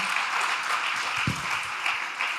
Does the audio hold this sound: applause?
yes